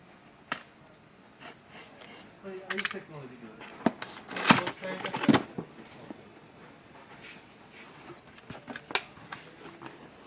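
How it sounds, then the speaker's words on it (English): A blade slicing through the tape seal on a Lenovo ThinkBook 15 laptop box, giving scattered sharp scrapes, taps and rustles of cardboard and plastic at close range, with a brief voice heard along the way. "Let's cut the seal."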